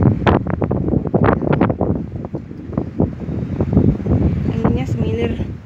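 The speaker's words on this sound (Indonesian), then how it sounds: "Anginnya semilir, campur panas." Strong wind buffets the microphone on a fifth-floor spot in Taiwan, heavy rumbling gusts rising and falling continuously, loud and close, with a few faint higher sounds late on.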